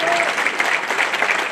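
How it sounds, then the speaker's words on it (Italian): Dense, steady applause from an audience honoring the Alpini at their Bibione gathering. The clapping stays full and continuous for its whole short span. "Piuttosto che farlo a me questo applauso, glielo vogliamo fare agli alpini per l'organizzazione"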